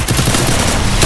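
Gunfire in a Free Fire match, a loud, dense burst of rapid shots with sharp, tightly packed reports and no voices.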